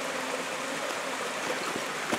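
Fresh, crystal-clear water flows through a mountain stream in the Sierra, a steady broadband rushing and gurgling, close and even with small splashes, no voices.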